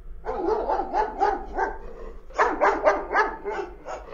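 A dog barks in rapid bursts, two quick runs of loud, close barks separated by a short pause.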